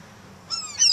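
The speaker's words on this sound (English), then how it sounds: "Dang, these birds are like screaming at me. Mallards are so pretty." Mallard ducks at a park call loudly in two quick, harsh bursts close by, rising out of quiet background noise.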